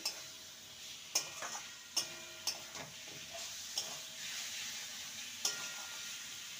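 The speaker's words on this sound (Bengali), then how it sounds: "এবার ভেজে রাখা আলু আর পটলকে দিয়ে দেবো। ভালো করে মশলার সাথে নেড়ে নেব।" Fried potatoes and pointed gourd being stirred with spices in a pan under a soft sizzle, with sharp utensil knocks against the metal every second or so and no voices.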